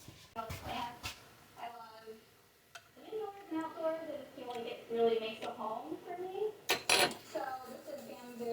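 A spoon clinks against a dish while someone tastes homemade banana pudding: a few light scrapes and taps near the start and a sharper clatter later, close by, mostly under a woman's speech.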